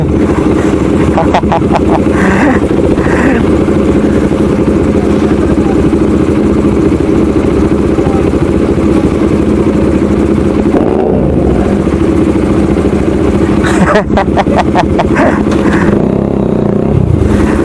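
A large Bajaj Dominar 400 motorcycle engine rumbles continuously up close, idling and revving at times, with people talking over it.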